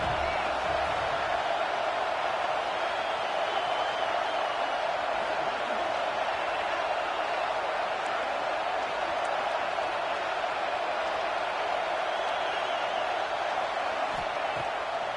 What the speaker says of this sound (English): the Buckeye crowd alive on 3rd down